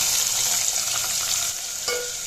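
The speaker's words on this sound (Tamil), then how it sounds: "இதை நல்லா எண்ணெயிலே வதக்கி விடுங்க" Steady, close sizzling of onions frying in hot oil, a dense hiss with light stirring scrapes, briefly quieting near the end before resuming.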